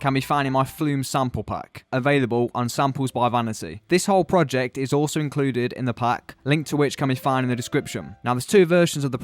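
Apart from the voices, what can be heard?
No everyday noise stands out behind the speech.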